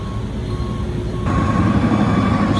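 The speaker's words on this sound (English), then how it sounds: "This is the first of the trucks for the crane" A heavy truck bringing crane counterweight to a construction site backs up, its steady reversing alarm beeping repeatedly over a loud diesel rumble that swells partway through.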